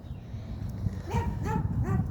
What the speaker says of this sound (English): I thought he'd quit barking.